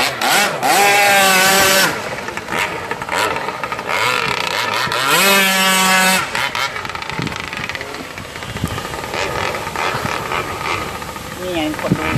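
A remote-control longtail boat driven by a powerful lawnmower engine, the small two-stroke motor screaming loudly as it revs up and down in repeated surges, then dropping to a rougher idle, with people talking over it.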